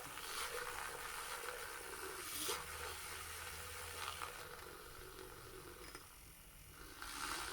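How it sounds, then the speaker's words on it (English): Raktajino coffee milk being frothed, a steady close steam hiss with faint mechanical whirring that swells and dips over several seconds, no talking. "froth this coffee, froth the milk up"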